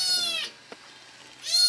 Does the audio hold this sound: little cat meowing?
yes